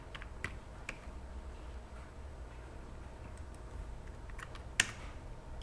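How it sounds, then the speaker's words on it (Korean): Sparse computer keyboard key presses, Ctrl shortcuts in drafting software, a few isolated clicks spread over quiet room tone with one sharper tap near the end. "컨트롤 키 눌러서 컨트롤 1 눌러서"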